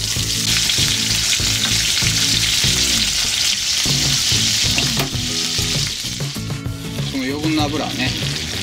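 Green peppers wrapped in pork belly with ginger crackle and sizzle loudly in a pan while steam-frying over low heat, a constant close-up frying hiss with a few clinks and scrapes and no talking.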